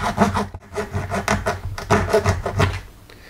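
A hacksaw cuts through a plastic breadboard power strip with rapid, rhythmic back-and-forth rasping strokes, close and steady, which fade at the end.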